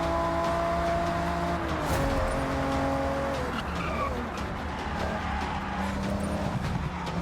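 Toyota Supra MK4, a 300-horsepower rear-wheel-drive coupe, running a time attack in the Forza Horizon racing game: a steady engine roar throughout, with shifting tones and tire squeals over constant background music.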